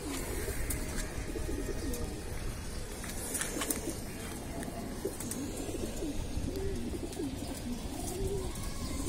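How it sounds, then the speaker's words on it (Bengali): Pigeons in a breeder's loft of around 200 birds coo steadily and continuously at moderate level, a soft rolling murmur with no talking. "সুন্দর একটা কবুতর"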